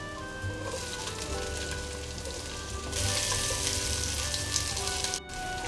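Garlic, carrot and capsicum fry in hot oil for Singaporean rice, a steady close sizzle that grows louder partway through as the vegetables are stirred, with no talking.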